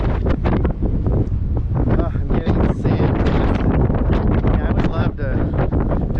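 Strong wind at Big Bend National Park buffets the microphone in loud, gusty bursts, roaring and rumbling almost continuously up close.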